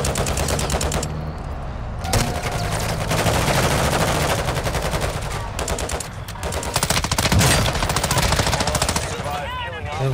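Sustained automatic gunfire in Call of Duty Warzone 2.0 DMZ, loud and nearly continuous with brief pauses, heavy overlapping bursts and explosions layered together.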